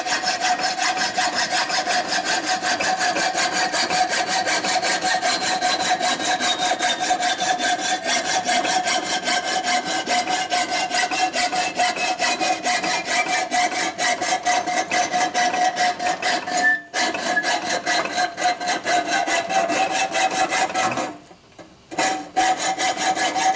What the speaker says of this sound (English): So we're gonna go ahead with a hacksaw now.